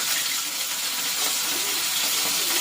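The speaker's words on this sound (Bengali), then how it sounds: "এটা ফুলকপিটা একটু লাল লাল করে ভেজে নেব" Cauliflower, first boiled in salted water, fries in a hot pan in a home kitchen, giving a steady, close, bright sizzle and hiss throughout with no talk.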